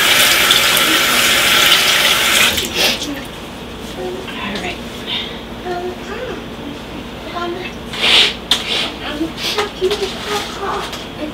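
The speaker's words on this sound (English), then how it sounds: "I'm going to go ahead and wash my hands and start breakfast." Tap water runs into a kitchen sink as hands are washed, a loud steady gush at first that drops to a softer trickle with splashing, while voices talk over the flow.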